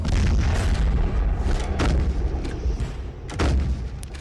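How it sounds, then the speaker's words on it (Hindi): Gunfire and explosive shelling during an army operation against hidden militants in the Pir Panjal hills, heard as dense, loud booms and sharp cracks in rapid succession with a rumbling background throughout. "फिर से फायरिंग हो रही है।"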